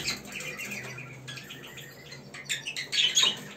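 Pet birds squabble in a cage, with a few sharp squawks and chirps in quick bursts over a low background, close by.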